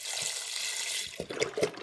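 Trader Joe's vegetable broth poured into an Instant Pot for split pea soup, a steady close splashing stream lasting about a second before giving way to a few softer sloshes and clinks.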